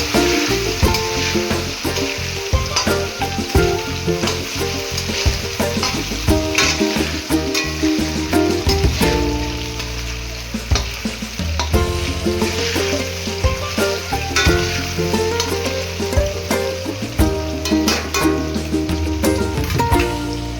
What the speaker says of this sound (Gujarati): બટાકા થોડા ફ્રાય થઈને આવે પછી નાખીશું વટાણા